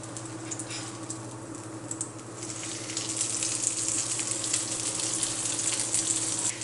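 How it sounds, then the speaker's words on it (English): Focaccia bread frying in a pan over medium heat, a steady broadband sizzle that grows louder and denser after the first couple of seconds, with a low hum underneath and no talk. "So now that our bread has been cooking on one side for about a minute, it's time to go ahead and give it a nice little flip."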